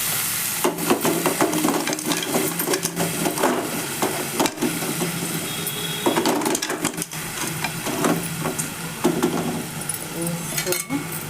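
Red lentils fry in a pan for a spinach dal, giving a steady crackling sizzle with repeated clinks and scrapes of a stirring spoon, while a voice talks over it.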